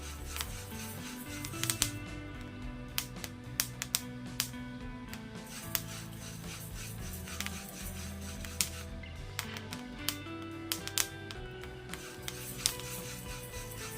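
Horse gram seeds roasting in a hot pan: scattered small pops and crackles, irregular and fairly faint, over a steady low background hiss.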